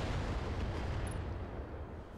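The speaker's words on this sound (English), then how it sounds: "Ammo explosion, pilot injured, pretty sure it's dead." Ammo explosion destroying a mech in the video game Battletech, a deep rumbling blast that booms loudly at the start and slowly fades out over a couple of seconds with no speech.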